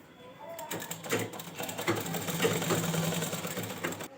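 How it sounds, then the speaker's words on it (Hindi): A sewing machine stitches the hem of a pajama, a close rapid mechanical chatter with a low steady hum, running continuously at moderate loudness while someone talks softly over it. "तो यहाँ पे मैं फर्स्ट टाइम इसी तरह से सिलाई ले रही हूँ।"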